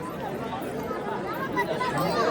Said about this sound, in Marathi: ती बघा गाईज गर्दी, नेक्स्ट लेवलची गर्दी झाली